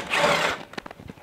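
A power tool whirs steadily for about half a second while undoing screws on the pump of a Hotpoint Ultima washing machine, followed by a few short clicks and knocks as the tool stops.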